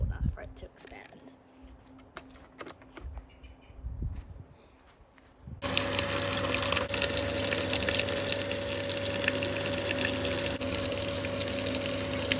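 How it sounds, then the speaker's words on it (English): Water gushes from a tap into a 10-litre bucket, a loud, steady rushing pour that starts abruptly after quieter handling noises and runs on unbroken. "I'm just going to add it halfway because you only need to add 5 litres of water for it to expand."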